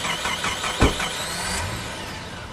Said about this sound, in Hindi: सर गाड़ी नहीं स्टार्ट हो रही है।